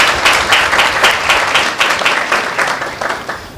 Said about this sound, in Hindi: चलिए जोरदार ताली प्रभु यीशु मसीह के नाम को देते हैं।